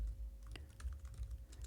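Quick, light keystrokes clatter on a computer keyboard in an irregular burst of close, crisp clicks over a low background hum, with no talking.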